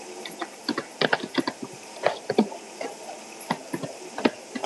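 Rapid, uneven computer keyboard typing with clustered keystrokes, close and fairly clear, over a soft steady background hum from a gaming session, with no speech.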